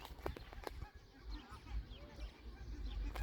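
Distant geese honk faintly amid outdoor ambience at an eco-park in Poltava, Ukraine, with a few sharper calls near the start.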